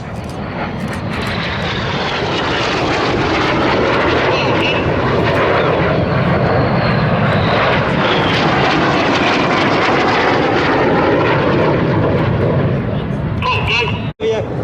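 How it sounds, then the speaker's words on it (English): RAF Red Arrows jets roar overhead performing aileron rolls at the Sywell 2024 air show, a loud sustained engine blast swelling and fading across the sky for many seconds, with a commentator's voice underneath. "Each aircraft will conduct a 360-degree aileron roll after they cross."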